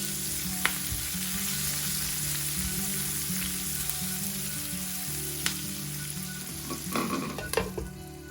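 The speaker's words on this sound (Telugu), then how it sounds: "మొత్తం ఒకసారి కలుపుకుని మూత పెట్టి లో ఫ్లేమ్లో ఈ ఉల్లిపాయల్ని వేగనివ్వాలి." Salted onions fry gently on a low flame in a pan, a steady close sizzle with occasional clicks and a burst of stirring scrapes near the end.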